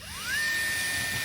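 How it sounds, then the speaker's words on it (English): A small power drill bores a star hole into a charred, burnt slice of log, its whine rising quickly as it spins up and then holding a steady high pitch, loud and close. "she's drilling the star pattern"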